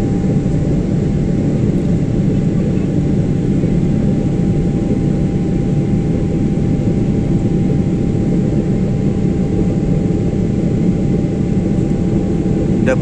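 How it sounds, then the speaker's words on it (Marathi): Steady, loud broadband engine roar of an airliner climbing after takeoff from Dublin on a flight to Abu Dhabi, heard continuously without change and without talk. "डब्लिनहून टेक ऑफ झालेला आहे."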